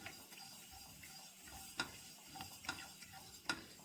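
Sesame seeds dry roasting on a hot tawa, faint scattered crackles and ticks popping at irregular intervals over a quiet background.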